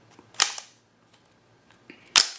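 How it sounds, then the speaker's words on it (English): Sharp mechanical clicks from the trigger of a new, stiff Ruger 22/45 pistol, two main snaps about 1.7 seconds apart with a few faint ticks between, close and fairly quiet with no talk. "But let's take a look at the trigger pull."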